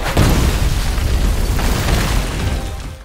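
A sustained, heavy rumbling explosion at a bank roars for about three seconds, dense and loud throughout before tapering off at the end.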